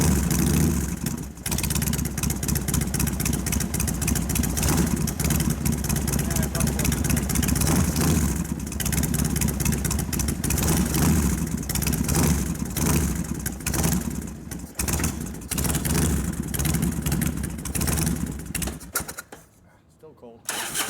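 A 1999 Harley-Davidson FXR2 motorcycle idles cold while warming up, a loud, close, uneven V-twin rumble running steadily for about twenty seconds before cutting off near the end, with people talking over it.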